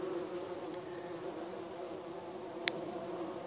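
A bumblebee buzzing steadily just outside a Natupol Booster pollination hive, a continuous low droning hum at moderate distance with a brief sharp click partway through, no talking.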